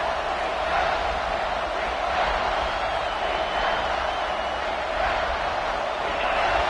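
A football stadium crowd at a Clemson versus Georgia game roars in a sustained, even wash of cheering and noise as the defense tries for a red-zone stop, steady and loud throughout with no clear talk over it.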